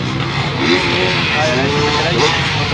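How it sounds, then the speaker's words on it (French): A freestyle motocross motorbike engine drones steadily at a live Nitro Circus show, with shifting engine tones under continuous loud talk and crowd noise. "vous le voyez sur une moto de freestyle motocross"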